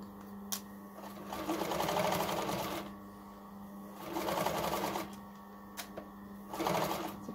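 A sewing machine stitches the inner pieces of a hoodie hood made from Burda pattern 6315, whirring in three slow, separate bursts with short pauses between them while the fabric is eased around a curve.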